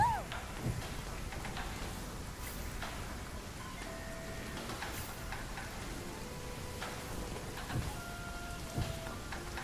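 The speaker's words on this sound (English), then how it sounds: "I like this area because it has rain." Steady video game rain in Gunfire Reborn patters with scattered drops and soft rumbles, continuous throughout at a moderate level.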